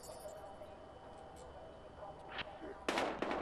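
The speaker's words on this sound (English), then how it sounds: "We've got gunshots." Gunfire in the video game Battlefield Hardline: a few sharp shots crack out near the end, one after another, over quiet game ambience with voices in the background.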